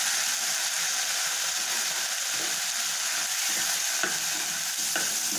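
Cooked dal and ponnaganti greens are stirred in a pan over fried onions in village-style cooking, with a soft continuous sizzle and scraping spoon strokes close by and no talking.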